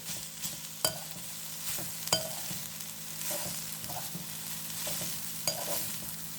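Soya chunks fry in a pan with tomato, a faint steady sizzle broken by repeated scraping and tapping of a stirring spoon at an unhurried rhythm.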